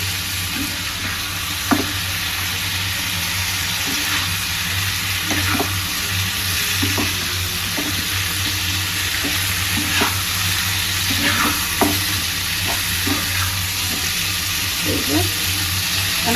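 Potatoes frying in oil are stirred in a pan, giving a steady, close sizzle broken by regular scraping strokes from the spoon throughout.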